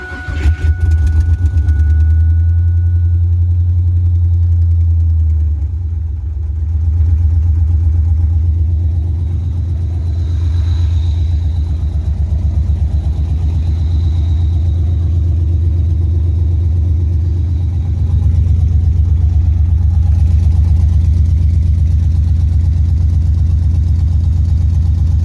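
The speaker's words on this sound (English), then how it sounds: "let's go ahead and start this thing up, see what it sounds like now" A 2000 Pontiac Firebird with an LS engine swap and freshly installed exhaust fires up and settles into a loud, steady, deep idle that rumbles continuously and close, with no talking over it.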